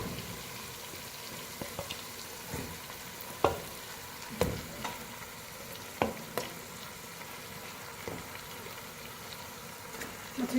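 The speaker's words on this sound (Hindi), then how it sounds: "मछली के सर मैंने ऐड कर दिए और मछली के सरों को हम भूनेंगे" Fish heads fry in a masala gravy, a quiet low sizzle broken by scattered clacks and scrapes of a spoon stirring in the pan.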